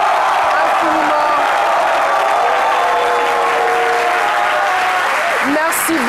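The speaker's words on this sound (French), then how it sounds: "Vous pouvez vous applaudir." A French television studio audience applauds themselves on a midday talk show, a loud, sustained wall of clapping with scattered cheers and voices talking over it.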